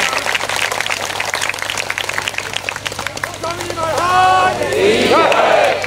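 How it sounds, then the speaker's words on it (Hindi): A crowd at a satsang claps in welcome, and the applause swells into a broad roar during the last couple of seconds, following a stretch of voices speaking. "आप लोग जोरदार तालियों से स्वागत करें।"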